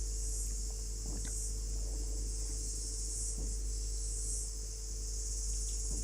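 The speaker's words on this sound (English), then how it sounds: "I can hear the cicada sounds better." Steady cicada chorus droning high and continuous throughout, with a low background hum and a few faint soft knocks, heard calmly during a quiet meditation setting.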